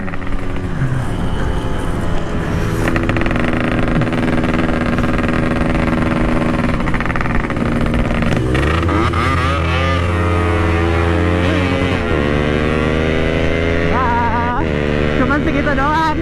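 A Yamaha RX King two-stroke motorcycle runs loud and close, its engine note rising and falling through revs over a steady roar, with shifting pitch sweeps as it accelerates.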